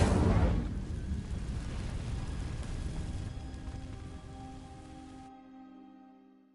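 A Hogwarts Legacy Incendio fire spell igniting dry vines: a sharp whooshing burst, then a steady crackling, hissing roar of flames that holds for about five seconds and cuts off, leaving a faint low tonal hum fading out.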